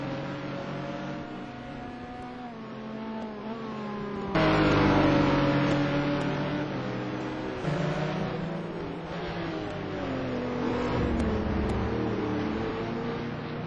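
A Mosler race car's engine howls around the Mugello circuit in a sim race, a loud, steady drone with rising and falling pitch through gear changes, swelling sharply as it comes closer partway through, with no talk over it.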